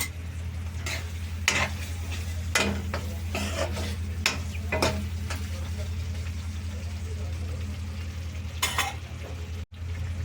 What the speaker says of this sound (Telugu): గ్రేవీ మగ్గుతుంది కదండి.